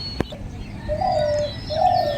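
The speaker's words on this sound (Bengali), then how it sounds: "এখানে ঘুঘু পাখি ডাকছে," A dove coos in the morning open air, two clear drawn-out calls close by, with a brief sharp tap near the start and a low background hum throughout.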